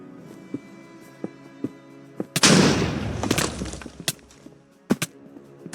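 A fireball attack in Roblox Bedwars sounds as a sudden loud whooshing blast that roars and then trails off over a couple of seconds, surrounded by sharp clicky game hits and pops before and after.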